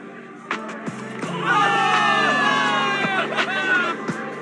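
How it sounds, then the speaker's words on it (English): A crowd of soldiers cheers for victory in the video game Zenless Zone Zero, a loud, swelling roar of shouts and whoops that peaks mid-clip, with a few sharp impacts punctuating it. "Give it up for yourselves, soldiers! Cheer for victory!"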